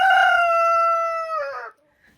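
A single rooster crows nearby in winter, one long, loud cock-a-doodle-doo with a sustained tone that breaks and trails off near the end, followed by near silence.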